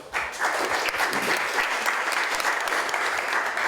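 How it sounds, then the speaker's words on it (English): Sustained applause from an audience at a public meeting on oil barges docking on the Hudson River, steady dense clapping filling the room from start to finish. "Round of applause for Bob Will."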